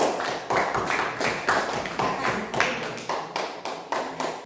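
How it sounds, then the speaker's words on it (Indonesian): A classroom audience claps for a presenting group: a run of sharp, uneven hand claps, fairly close, pulsing in quick bursts across the whole clip with no voices over it. "kita kasih aplaus untuk kelompok"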